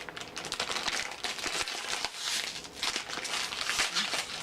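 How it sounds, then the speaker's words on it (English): A plastic blind bag collectible package is torn open, giving dense, irregular crinkling and rustling close by that continues throughout, with no talking. "that's the sound of a beautiful new package being opened"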